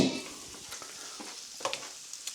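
Burger patties sizzle in a frying pan as they are flipped: a faint, steady hiss with a few soft clatters from the pan. Nobody speaks.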